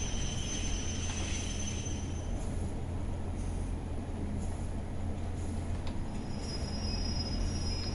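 A Class 142 Pacer train in Train Sim World 6 rolls with a steady low rumble while its brakes squeal in sustained high-pitched whines, alone without talk.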